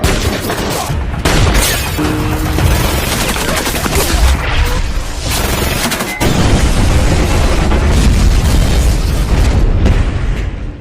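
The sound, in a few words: long-range rifle shot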